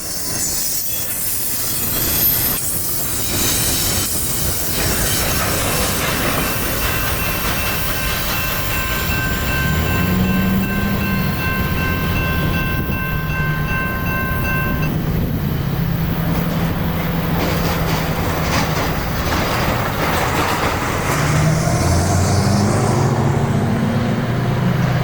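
A long CSX freight train carrying auto racks and intermodal cars rolls past on the Chattanooga Subdivision, with steady loud rumble, rattling wagons and sustained wheel squeal throughout, no voices.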